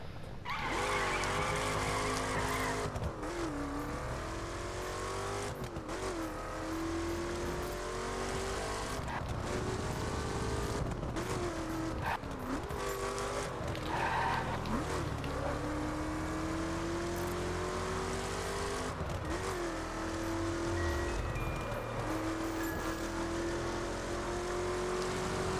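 Car driven in The Crew racing game on PS4: a steady, loud engine drone rising and falling through repeated gear shifts, with occasional tire noise, continuous throughout.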